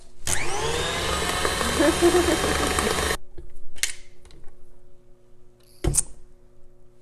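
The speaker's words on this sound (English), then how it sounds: "just mix and mix and mix for probably a good 2 or so minutes to get it extremely fluffy" An electric mixer whips sugar cookie frosting with a steady, loud motor whir for about three seconds, then cuts off, followed by a few brief clunks.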